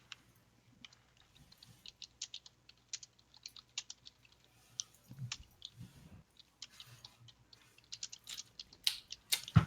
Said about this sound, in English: Sorry, I'm typing.